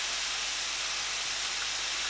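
Steak sears on a hot grill with a steady, fairly quiet broadband sizzle that holds even and unbroken throughout, with no voices.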